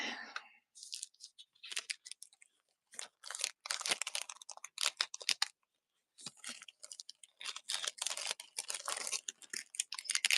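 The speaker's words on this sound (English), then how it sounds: "Sorry for the plastic noise." Plastic packaging crinkles and crunches in repeated bursts as vintage jewelry is handled at close range, sharp rustles starting and stopping with brief pauses between.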